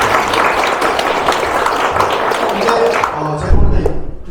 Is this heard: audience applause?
yes